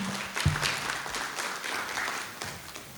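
Audience applauding at the start of a panel discussion at a corporate event, a fairly quiet, diffuse patter of many hands heard from a distance, steady throughout with a few sharper claps.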